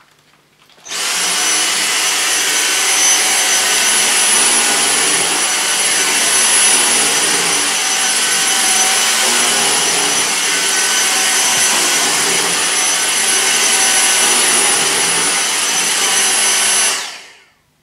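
Dyson V6 cordless vacuum cleaner running on max power, a loud steady whine and roar that starts abruptly, holds constant for about sixteen seconds, then cuts off.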